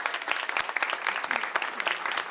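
An audience at a school board meeting breaks into sustained applause for the art teacher, a dense, even patter of many hands clapping close by without talk.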